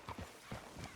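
Horse hooves clip-clopping in Red Dead Redemption 2, a handful of close, moderately loud steps in an uneven rhythm with a brief gap in the middle, over a low ambient bed.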